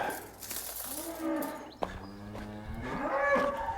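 Cattle in a field low with deep, drawn-out moos, one voice after another close by, broken by a brief sharp knock in the middle against faint outdoor background.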